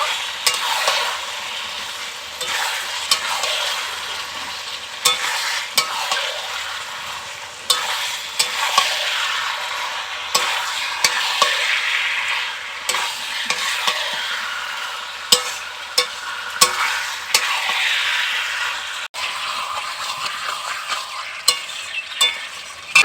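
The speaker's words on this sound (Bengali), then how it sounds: "তো আমি এখন চিকেনগুলোকে গ্রেভির মধ্যে দিয়ে দিচ্ছি, একটু মিশিয়ে নেব" Chicken pieces are stirred into a hot, sizzling gravy in a pan, giving a continuous loud sizzle with repeated scraping and stirring knocks, close and without speech.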